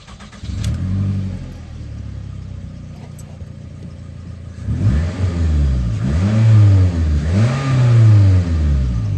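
A 2005 Toyota Camry with a newly replaced exhaust cranks and starts, idles briefly, then revs up twice in rising and falling sweeps. The engine is close and loud, and nobody speaks.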